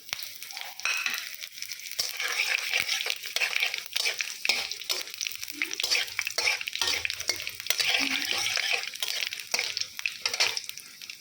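Steady sizzling of spices, carrots and long beans frying in hot oil, with frequent scraping and stirring clicks of a utensil against the pan.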